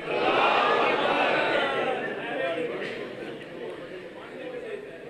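A large crowd at a Shia religious gathering, a Jashan celebration, roars a loud, sustained chanted reply to a zakir's slogan, the dense shout swelling at first and then easing into a steady, slightly fading roar.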